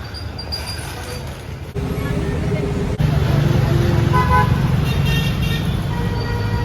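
Busy street traffic near a crowded market in Mumbai, with car horns tooting and vehicle and bus engines rumbling steadily throughout, and voices mingling in the background.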